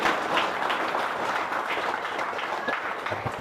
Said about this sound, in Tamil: நீங்க எல்லாம் சேர்ந்து ஒரு கைத்தட்டல் மூலமாக ஒரு பாராட்டு தெரிவித்தோம்.